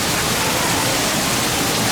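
A big waterfall in a river otter exhibit at an aquarium roars as a dense, even rush of falling water, loud and constant with no voices over it.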